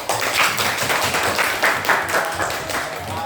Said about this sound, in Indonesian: Ya, beri aplaus untuk temannya.